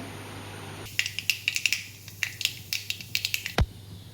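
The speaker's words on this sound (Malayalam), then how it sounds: "കടുകൊന്ന് പൊട്ടട്ടെ" Mustard seeds crackle and pop in hot coconut oil, a scattered burst of sharp little snaps over about three seconds, close and fairly crisp, with no talk.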